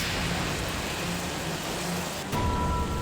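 Soft, steady rainfall hissing evenly throughout, fairly quiet, with a faint tonal hum appearing near the end.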